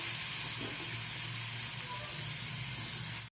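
Spice paste with Kashmiri chilli sizzling in a pan after a splash of water, a steady close hiss and crackle of frying that runs continuously before cutting off abruptly.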